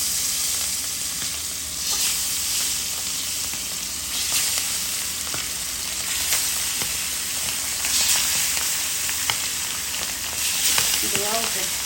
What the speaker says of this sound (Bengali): দিয়ে দিলাম মাছ ভাজাটা।